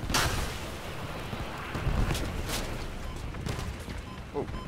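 Missiles fire repeatedly in the vehicle combat game Crossout, a series of sharp blasts and booms over a continuous rumbling battle din, with no talk.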